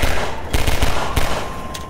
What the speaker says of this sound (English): Shooting guns like a pro.